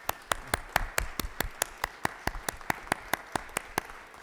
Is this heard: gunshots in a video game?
no